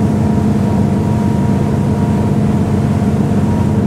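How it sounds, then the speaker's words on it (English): A Princess V40 motorboat holds a moderate turn at about 23 knots, its engine droning steadily and loudly with constant water and hull rush throughout, no voices present. "So let's put the boat through a turn and just see how she feels, just at that 23 knot speed there."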